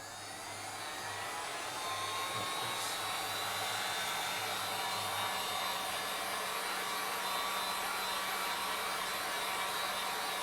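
A heat gun blows hot air steadily over large damp spots, a loud, continuous broadband whoosh with a faint whine, running alone without pause from start to finish.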